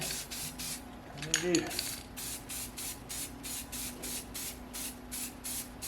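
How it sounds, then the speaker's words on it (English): Rapid repeated bursts of spray paint hiss in short even pulses, close by, applying a first coat to Miata kart parts, with a brief rattle partway through. "they're ready to spray their first coat"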